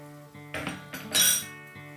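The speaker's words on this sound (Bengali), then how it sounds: "বাটিটা ধুয়ে আমি জলটা দিয়ে দিলাম।" A rinsed bowl handled in a kitchen, giving a few close clinks and knocks of crockery and a short bright splash of water poured in, with no talking.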